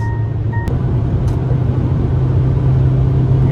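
Steady engine rumble and broadband wind noise inside an Opel Combo Cargo with a 1.5-litre 130 HP engine, accelerating hard on a flat road at about 150 km/h, with a brief warning chime near the start.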